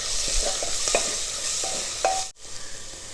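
Crushed garlic and green chillies frying in a pan for a Kerala-style chickpea curry, with a steady bright sizzle and a few soft stirring scrapes, broken by a brief drop-out near the end.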